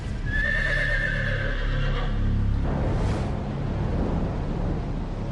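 A horse gives one loud, close whinny that rises and trails off over about two seconds, followed by snorting and shuffling hooves.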